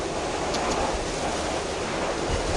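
Floodwater rushes during Typhoon Uwan, a dense, loud, unbroken roar mixed with wind buffeting the microphone, with no voices.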